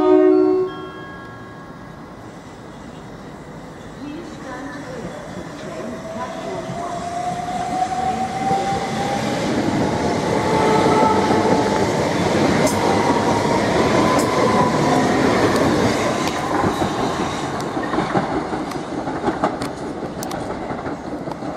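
A train pulling out of Chichester railway station platform, rising from quiet idling into a building roar of engine and wheels, a tone climbing as it accelerates and steady rumbling close by.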